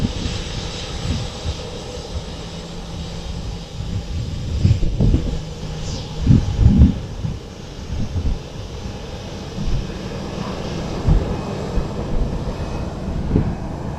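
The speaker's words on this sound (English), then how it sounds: "the Nigerian Air Force plane conveying President Buhari touched down at exactly 10 minutes past 9 Tuesday night." A Nigerian Air Force plane carrying the president touches down at night, its engine a steady low roar with wind noise and a few louder surges, no voices.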